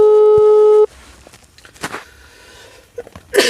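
An outgoing phone call ringing unanswered: one steady, loud electronic ringback tone lasting under a second, followed by faint room noise and small handling sounds.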